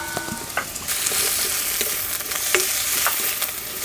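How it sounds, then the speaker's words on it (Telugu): Onions, green chillies, ginger and garlic frying in hot oil in a kadai, producing a loud, steady sizzle with scattered spatter pops and occasional stirring clinks, no voices. "నూనె వేడెక్కగానే ఉల్లిపాయలు వేసుకుందాం."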